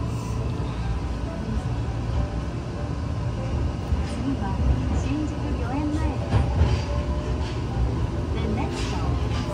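A red Tokyo Metro Marunouchi line train at a station, its steady low rumble and rolling wheel noise filling the space, with voices talking over it throughout.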